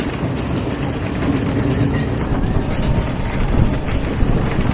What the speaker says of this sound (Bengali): ট্রেন ঊর্ধ্ব গতিতে ছুটে চলল।